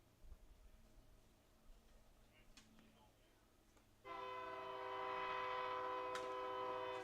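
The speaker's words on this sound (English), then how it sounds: "1 o'clock train coming through nearby." A train rolls through nearby during a backyard baseball game, rising suddenly midway into a loud, sustained horn blast with steady rail rumble beneath, preceded by faint background chatter.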